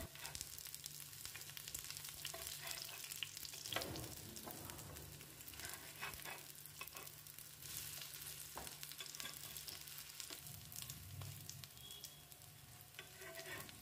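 Pumpkin slices fry slowly in oil over a low-to-medium gas flame, giving a steady close sizzle with occasional scraping and stirring clicks from a spatula throughout, with no talking.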